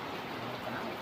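Steady rain falls during the roadside evacuation of a Colt Diesel truck with a broken drive axle, a continuous even hiss of drops on surfaces, close and unbroken for the whole moment, with no voices.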